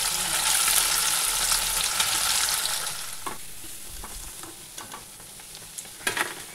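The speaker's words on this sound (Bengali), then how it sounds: "পনির ভাজা হয়ে গেল" Paneer frying in a pan, a loud, dense sizzle at first that thins out toward the end into sparser spits and pops, with a few sharp clinks of a utensil against the pan.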